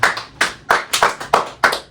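A few people in a small room clap for a podcast guest, about seven loud, close claps in a loose, uneven rhythm with short gaps between them.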